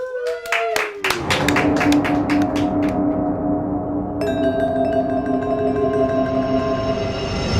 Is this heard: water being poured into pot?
no